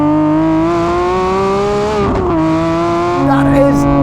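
Lamborghini Aventador Ultimae Roadster tuned by Novitec, its V12 engine revving hard with strong rising harmonic tones, one gear change around the midpoint and another pull near the end, loud and close.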